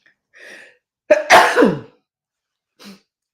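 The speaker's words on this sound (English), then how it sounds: "I'm going to sneeze." A person sneezes once, preceded by a faint breathy intake, a sharp loud burst followed by a short vocal trailing sound, then quiet with a brief small noise near the end.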